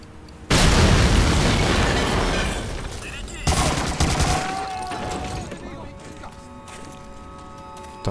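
Heavy explosions and bursts of gunfire erupt in the video game Medal of Honor: Allied Assault Spearhead, loud and close, with two big booms followed by rumbling battle noise and a sustained tone as the blasts fade.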